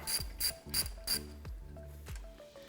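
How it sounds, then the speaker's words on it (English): A ratchet with a 13mm socket works a bolt loose under a Jeep JK Wrangler, making several close, rapid clicking bursts in an uneven rhythm, with no one speaking. "we're gonna go ahead and use a 13mm socket on a ratchet here to get that loosened up and pulled out"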